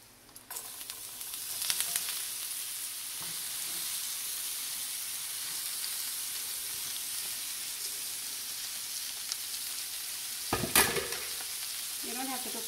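Shredded cabbage cooking in a pan with shredded coconut, a steady low sizzle and frying hiss running throughout, with a few louder bursts of stirring and scraping near the start and again toward the end.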